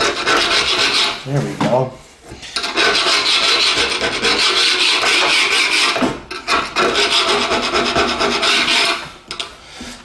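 Old silicone scraped out of a stove door gasket channel, harsh rasping strokes repeating in bursts with short pauses, loud and close, with a brief spoken remark.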